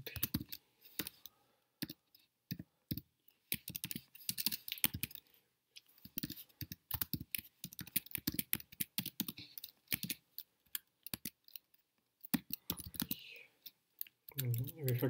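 Rapid, uneven clicking of computer keyboard keys, close and fairly faint, in irregular bursts with short pauses between them while someone writes code.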